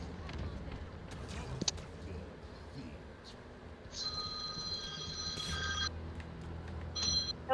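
A telephone rings in short electronic bursts, two clear ring pulses midway and another near the end, under soft talk and game background noise.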